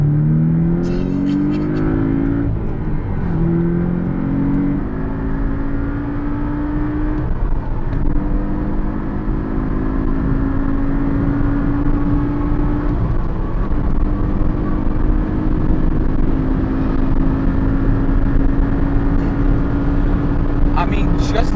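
A Porsche 718 Boxster S accelerates hard on the Autobahn, its engine note climbing through the gears with rising whine and loud, constant road and wind roar throughout.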